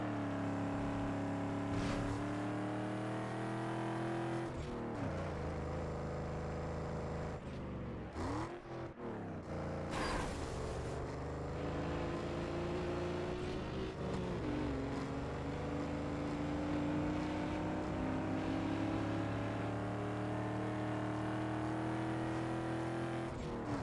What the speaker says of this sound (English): Random AI generated engine sounds for this game. Especially on trucks, people.